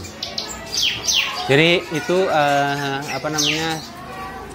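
Bright, whistled song of a bar-winged prinia, a caged bird, with rising sweeps and sustained harmonic notes, fairly close and loud, with a brief voice at the start.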